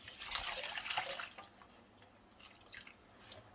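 Liquid yarn dye poured out of containers, a soft splashing trickle that is loudest at first, then thins into scattered drips, quiet and with no talk.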